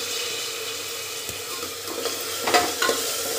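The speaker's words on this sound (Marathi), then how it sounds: "तो पण तेलामध्ये छानपैकी फ्राय करून घ्यायचा आहे आपल्याला" Chopped onion and pavta beans fry in hot oil with a steady sizzle, broken by a few clinks and scrapes of stirring toward the end; no one speaks.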